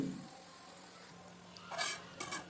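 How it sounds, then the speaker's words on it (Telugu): A spoon stirs ginger garlic paste into boiling water in a pot for Hyderabadi chicken biryani, a faint bubbling simmer broken by a few short scraping clinks of metal against the pot near the end. "ఒక స్పూన్ అల్లం వెల్లుల్లి వేసి కలపాలండి"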